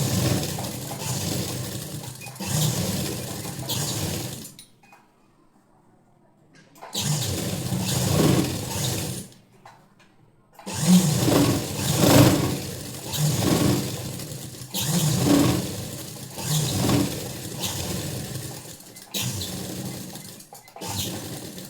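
A sewing machine runs a topstitch along a blouse belt in several steady mechanical bursts of a few seconds each, separated by short pauses, close up and alone with no talking.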